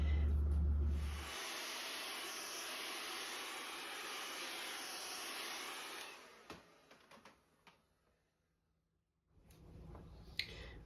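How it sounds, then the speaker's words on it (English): A hair dryer drying acrylic paint blows with a steady loud whooshing hiss, then cuts off, leaving a few clicks and quiet before it starts again. "I'm going to speed the drying process up with my hair dryer"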